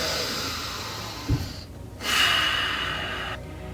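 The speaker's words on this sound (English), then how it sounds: "Take a few deep breaths." A single slow, deep breath is drawn in and released in a quiet seated relaxation exercise, close and audible, with a soft snort-like catch before the long airy exhale.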